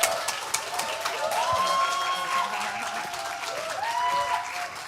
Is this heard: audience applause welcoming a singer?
yes